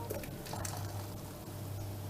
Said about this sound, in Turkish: Tenceremdeki pepe çuramı sürahimi aktaracağım.